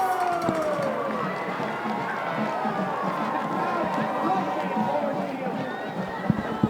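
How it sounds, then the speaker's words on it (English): A high-school football crowd roars and cheers after a Bombers touchdown, a dense, sustained wall of noise from the stands with an announcer talking over it. "This team and this crowd, they're going nuts right now."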